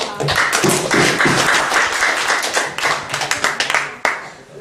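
Audience applause at a public seminar on civil law advocacy strategy, dense rapid clapping from a roomful of people sustained for several seconds, tapering then a final sharp clap.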